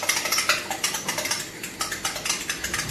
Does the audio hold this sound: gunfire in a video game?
no